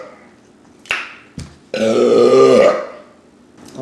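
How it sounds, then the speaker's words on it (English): A woman lets out a long, loud, guttural burp of over a second, close up and alone, with two short sharp clicks or smacks just before it and a soft breath at the end. "Why? Can you burp?"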